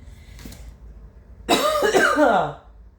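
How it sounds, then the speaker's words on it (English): A quiet pause with a faint sound, then a burst of harsh, raspy coughing lasting about a second, close and fairly loud. "And I'm coughing again."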